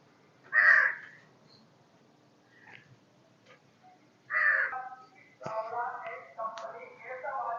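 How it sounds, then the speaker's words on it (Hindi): Two loud, harsh caws ring out close by from a single crow, with quieter sounds in the gaps between them, and a person then starts talking. "कौवा कहाँ से आ जाता है रोज और काव काव करते रहता है"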